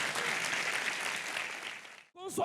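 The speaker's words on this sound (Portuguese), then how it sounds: "Dê uma salva de palmas com força, Jesus." Church congregation clapping during a worship service, a loud, dense burst of applause filling the room, which stops abruptly before a voice begins speaking.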